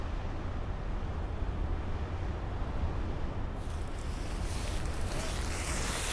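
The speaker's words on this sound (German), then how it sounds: "Plötzlich kommt starker Wind auf." Strong wind blows steadily across open country during a hunt in the Rhön hills, a constant loud rushing roar that grows harsher and gustier in the second half, with no voices.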